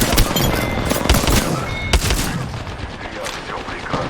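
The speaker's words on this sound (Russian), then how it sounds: "Открываю огонь по подопытным." Rapid bursts of video-game gunfire from a shooter, loud and dense for the full stretch, with a few heavier cracks and thuds standing out in the chaotic firefight.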